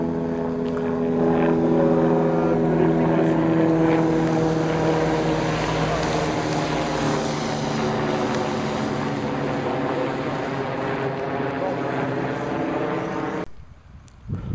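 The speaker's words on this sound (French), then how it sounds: "Vous pouvez constater que les hélicos sont toujours là." Helicopters circle overhead in Bugarach, France, a steady loud rotor drone with droning harmonics that holds for about thirteen seconds before cutting off abruptly near the end.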